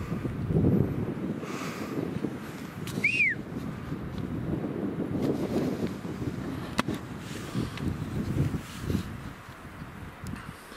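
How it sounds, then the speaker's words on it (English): Strong wind buffets and roars across the microphone in continuous gusts, with a brief high whistle-like tone partway through. "it's so windy up here."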